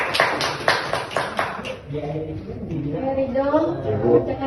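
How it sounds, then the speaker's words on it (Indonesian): A small classroom group in Indonesia gives a quick run of sharp, rhythmic hand claps lasting under two seconds, after which a voice takes over and talks alone. "Tepuk tangan untuk pemirsa."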